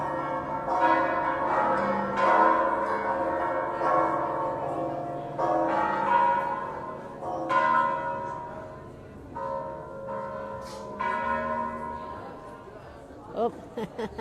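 Noon church bells in San Miguel de Allende swing and ring in uneven bursts, their resonant strikes swelling and fading, while nearby crowd chatter and voices mix in beneath them.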